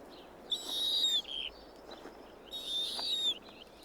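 An Arctic owl gives two drawn-out, high, thin screeching calls, each under a second, close and fairly loud over a low background hiss.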